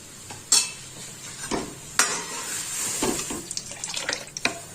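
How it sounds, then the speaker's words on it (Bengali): Dal with turmeric being stirred in a pan gives wet, sloshing scrapes and soft splashes with a light bubbling sizzle, close and without speech. "হলুদটা একটু মিশিয়ে নেব।"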